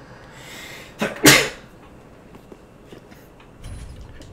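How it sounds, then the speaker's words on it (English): A person sneezes once, loud and close, with a short catch of breath just before the main burst, followed by faint room noise. "I feel like I'm about to sneeze."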